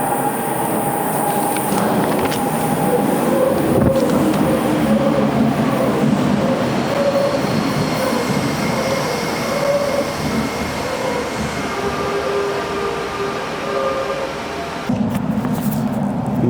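Steady rumble of a Japanese bullet train in motion between Osaka and Tokyo, a continuous low roar with faint tonal hums and a brief shift near the end.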